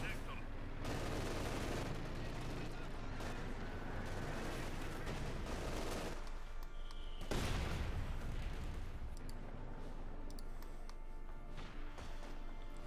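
Combat in the Company of Heroes 2 video game, with a Panther tank firing on a heavy machine gun crew. Dense continuous gunfire, explosions and rumbling run throughout with a heavy blast near the middle, while a commentator talks faintly underneath.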